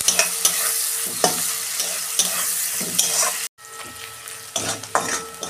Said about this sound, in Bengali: পেঁয়াজটা 2 মিনিট ভাজবো আমি